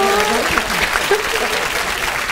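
A studio audience at a TV bolero singing contest breaks into applause, a loud dense burst of clapping that fills the short stretch, with a voice faintly under it.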